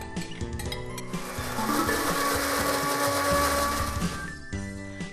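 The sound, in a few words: blender grinding cooked rice into paste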